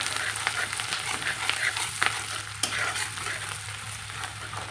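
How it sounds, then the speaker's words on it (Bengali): Ginger paste, chopped green chillies and chopped onion fry together in a pan, a close, continuous sizzle with soft stirring scrapes and a few sharper clicks and taps. "আর দিয়ে দেব আদা পেস্ট করা কয়েকটা কুচনো লঙ্কা আর দিয়ে দেবো পেঁয়াজ কুচি দিয়ে এখন ভালো করে এটাকে ভেজে নিতে হবে"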